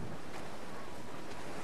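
Wind rushes steadily over a constant wash of ocean surf at sea in Assassin's Creed IV: Black Flag, a broad, even roar with no voices.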